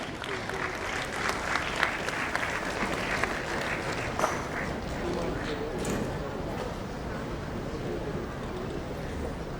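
Audience at a school golden jubilee fest applauds steadily throughout, a dense even clapping with crowd noise underneath.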